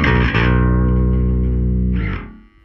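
An Ibanez SR405EQM five-string electric bass with its pickup switched to single-coil power tap, ringing out a sustained note with a gritty, buzzy tone, then a short slide and a fade into faint hum.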